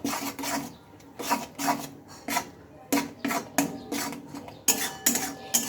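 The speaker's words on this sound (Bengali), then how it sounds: "সবগুলোকে একসঙ্গে আমি একটু ভালোভাবে নেড়ে নেব" Raw banana and prawns with black cumin, salt and turmeric are stirred in a pan. A utensil scrapes the metal in repeated rasping strokes, close and rhythmic, with short gaps between the strokes and no speech.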